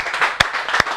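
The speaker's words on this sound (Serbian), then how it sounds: "aplauz za Nešu Manojlovića" Studio audience applause on a Serbian TV show, a brief burst of dense clapping with a couple of sharper claps standing out, close and moderately loud.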